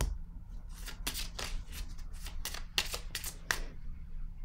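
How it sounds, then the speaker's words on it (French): Tarot cards rifled and handled from a deck, a rapid series of close, crisp flicking and shuffling bursts with no talking. "Attendez, je vais plutôt piger une carte rose."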